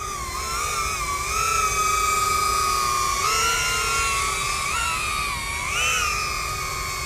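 An LDARC KingKong ET100 three-bladed RC helicopter hovers close by with a steady high-pitched motor whine. The pitch wavers as it flies, and there is no talk.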